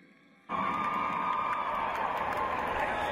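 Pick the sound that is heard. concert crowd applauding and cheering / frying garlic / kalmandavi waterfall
concert crowd applauding and cheering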